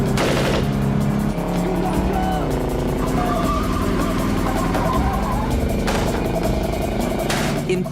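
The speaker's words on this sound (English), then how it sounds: "they start machine gunning the car" Machine gun fire from a van sprayed at a car in a dramatized crime scene, loud sustained bursts of gunfire over tense music and engine noise throughout.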